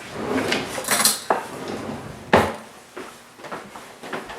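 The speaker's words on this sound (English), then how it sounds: "I didn't get my spoon out, so let me do that." A kitchen drawer slides open and a spoon is pulled out, with rattling cutlery, a couple of sharp knocks and clatters, close and clear with no talking.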